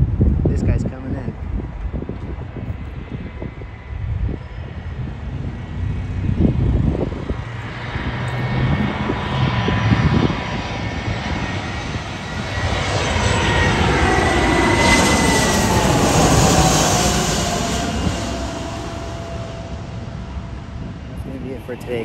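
An airliner coming in to land at LAX roars loudly overhead, its engine noise swelling and sweeping in pitch as it passes near, with people talking underneath.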